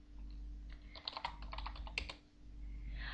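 Commands typed on a computer keyboard, a quick burst of close, crisp key clicks in an irregular rhythm, pausing briefly before a couple more taps, over a quiet low hum.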